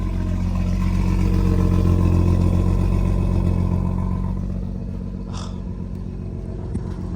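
A BMW 440i Gran Coupe with a 5-inch performance downpipe idles loudly after a cold start, a deep droning burble that gradually settles lower and quieter, close by.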